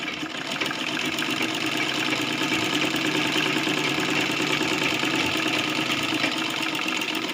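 A sewing machine stitches a baby frock in a fast, steady, close mechanical whir with a dense rapid rhythm that runs continuously without pause.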